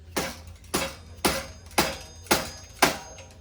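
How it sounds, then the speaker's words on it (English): A rubber hammer taps a bicycle bottom bracket spindle with the chain off the chainring, giving six evenly spaced, sharp knocks about half a second apart, near and fairly loud, with no talking. "we're gonna tap on the spindle with this rubber hammer"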